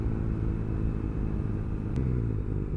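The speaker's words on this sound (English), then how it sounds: "It's got a lovely sound coming out of the standard exhaust. When you open it up, it really does growl." Steady deep exhaust growl from the standard exhaust of a BMW R nineT Urban GS motorcycle of about 110 brake horsepower, a continuous close rumble that holds at the same level throughout.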